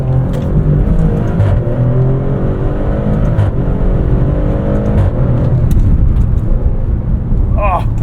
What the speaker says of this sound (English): we're going to crack a window here so you guys can hear this exhaust